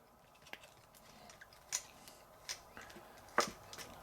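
A small screw is undone on the underside of an Atlas HO scale S-2 switcher model locomotive, giving a few faint, sparse clicks and scrapes close by in an otherwise quiet space.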